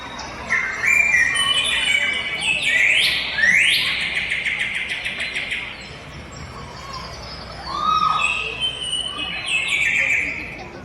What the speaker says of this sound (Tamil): நிறைய பறவைகளின் சத்தம் கேக்குது